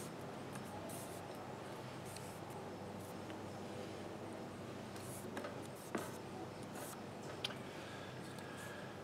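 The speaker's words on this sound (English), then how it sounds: "And then we can run our fingers all the way along and finish that fold," Soft, faint rubbing and sliding as fingers run along folded paper to crease it for a paper beetle craft, a steady dry swish with a couple of small taps, heard alone in a quiet room.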